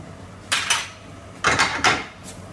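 Cooked rice tipped into a pan for egg fried rice, heard as a few close, bright scraping and clattering bursts of grains and utensil against metal, in two short clusters with quiet between.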